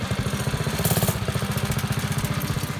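Minibike engine running at a lumpy idle, a close, steady rapid putter with a brief rise in revs near the start.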